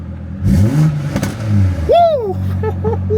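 A BMW car engine revs up and down in a few quick bursts, loud and close, with a rising whine over the idle.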